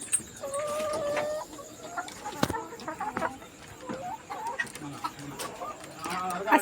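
Layer hens cluck and murmur inside a farm shed at night, with scattered overlapping calls and occasional sharper squawks, fairly close and steady throughout.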